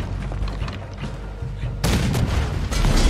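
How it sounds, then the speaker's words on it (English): Cannon fire in the Red Dead Redemption II video game booms in deep, heavy blasts with a sudden loud burst partway through and rumbling low-end continuing after. "Use the cannon."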